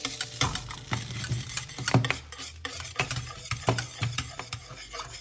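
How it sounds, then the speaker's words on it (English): A utensil scrapes and taps against a container while stirring a viscous gellan gum solution in a steady, repeated rhythm, close up, with no voices. "I added the whole thing now, so I can just keep stirring"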